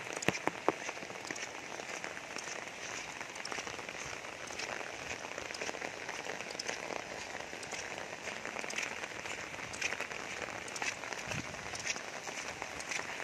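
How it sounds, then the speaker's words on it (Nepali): Heavy rain pours down in a steady, dense hiss of drops striking surfaces, unbroken and even throughout, with no voices. "यहाँ त लास्टै ठुलो पानी परिरहेको छ"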